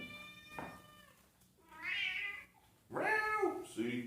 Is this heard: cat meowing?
yes